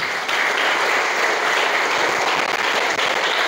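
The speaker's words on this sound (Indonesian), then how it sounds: "Tepuk tangan untuk kita semuanya hari ini." Audience applause fills a student seminar hall for new Islamic boarding school pupils in Jakarta, a steady, loud, dense clapping that holds evenly throughout with no voices over it.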